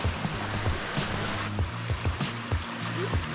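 Creek water running along a hiking trail in Lawson, a steady close rush of flowing water with small splashes and a few soft knocks of footsteps or movement over it.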